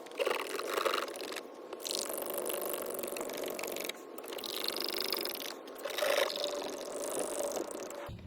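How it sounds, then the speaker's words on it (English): A rag soaked in brake fluid is rubbed across a car window while removing tint, giving continuous squeaky scrubbing strokes in several bursts with short pauses, close and without talk. "So I'm going to grab my brake fluid rag one more time, clean up there."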